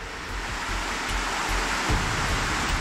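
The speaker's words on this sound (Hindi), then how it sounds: "इतनी तेज़ पानी की आवाज़ आ रही है, पानी की बहुत तेज़ धारा।" A strong, fast stream of water rushes below high mountains, a loud, steady broadband roar with no talking.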